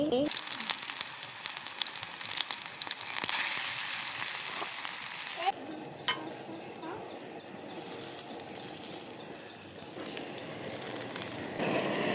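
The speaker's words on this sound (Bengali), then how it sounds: "গরম তেলে এবার পেঁয়াজি তুলো, এতে এতে ছেড়ে দেবো।" Onion fritters (piyaji) frying in hot oil in a village kitchen, a steady hiss and crackle that changes character partway through as more batter goes in, with faint speech in places.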